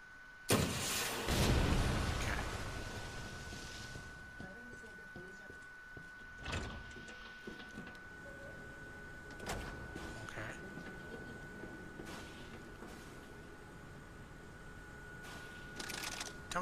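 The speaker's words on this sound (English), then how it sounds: "that's what it was. Cable car." A cable car in the video game Resident Evil 2 rumbles and whirs through a long mechanical passage with clanks and a steady hum, while a player talks throughout.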